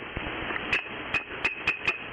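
A glass of Jack whiskey clinks five times in a loose rhythm. The sharp, bright chinks sit over a steady background hiss.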